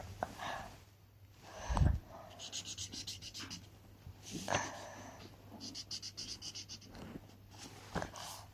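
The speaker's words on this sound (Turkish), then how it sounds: "Buraları çok dikkatli boyuyorum." Pencil or crayon rubbing and scratching on paper during careful coloring, soft intermittent scritching strokes with a few bumps and breaths, quiet and close.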